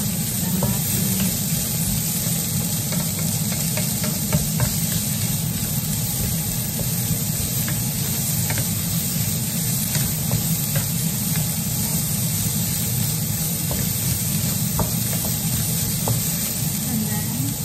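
Salmon fried rice sizzles steadily in a hot pan while being stirred, a continuous close frying hiss with faint scraping and tapping of the utensil throughout.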